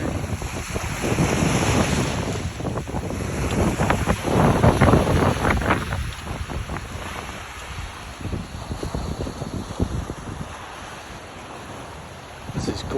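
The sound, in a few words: ocean surf and wind at Pierce's Point Beach, New Jersey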